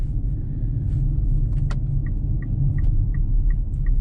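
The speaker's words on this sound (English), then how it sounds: "I do see a truck coming up behind me real quick, so I'm gonna just kind of let him go by me" Truck overtaking a Mitsubishi Outlander PHEV on a snowy winter road, heard as a loud, steady low rumble of road and engine noise from inside the car, with a few faint clicks and ticks on top.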